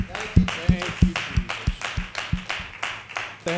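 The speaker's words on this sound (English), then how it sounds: "Let's give the Lord a hand clap of praise." A church congregation claps in praise during a worship service, giving a run of about a dozen sharp, evenly spaced claps with voices mixed in.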